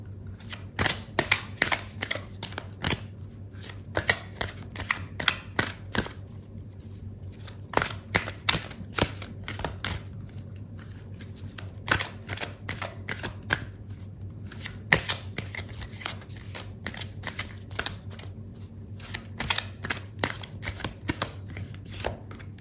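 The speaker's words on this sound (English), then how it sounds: "I'm going to pull out another card for you" Tarot cards are shuffled by hand in a long run of quick, crisp riffling flicks and slaps, close and fairly loud over a low steady hum.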